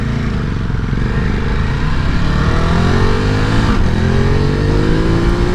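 A Ducati Multistrada V2S motorcycle engine revs hard on the move, a loud, continuous, close-up drone that climbs in pitch as it accelerates.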